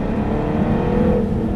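A Jaguar accelerating on a track sends out a loud, close, steady engine drone that rises slightly in pitch under power, with no talking.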